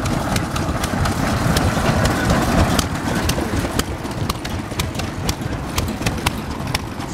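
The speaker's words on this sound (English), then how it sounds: "We've got some engines here." Antique engines, including what may be a Lister, run outdoors at an antique power show, giving a loud continuous rumble with regular sharp ticking beats from the firing cycles.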